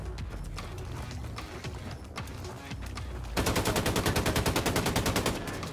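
Rapid gunfire rings out in the video game Wolfenstein II: scattered shots and impacts at first, then a dense, evenly spaced burst of loud reports over the final couple of seconds.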